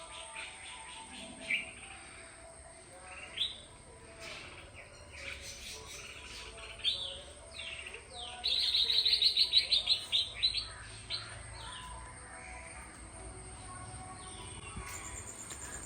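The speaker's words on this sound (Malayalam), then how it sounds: "പ്രകൃതിയിലെ കിളികളുടെ നാദമാണ് നിങ്ങളിപ്പോൾ കേട്ടുകൊണ്ടിരിക്കുന്നത്" Small birds chirp in scattered short calls in a home garden in the morning, over a steady insect-like hum, with a brief burst of rapid twittering midway.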